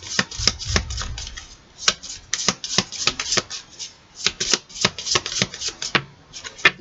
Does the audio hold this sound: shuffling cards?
yes